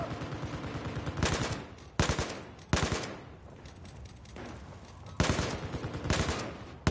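Repeated bursts of video game gunfire during a squad firefight, each volley a rapid automatic rattle lasting about half a second, loud and close, spaced irregularly over a steady background rumble.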